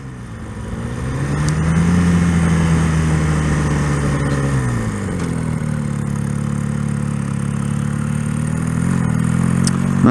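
A 1979 Honda CM185 Twinstar bobber motorcycle engine runs steadily while riding, a loud continuous drone with low harmonic tones that dip briefly mid-ride as the throttle shifts, then pick back up.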